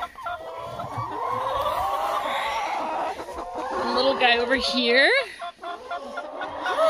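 Chickens cluck and murmur close by inside a backyard coop during egg collection, a steady layer of soft calls with a few sharper squawks, while a person talks over them.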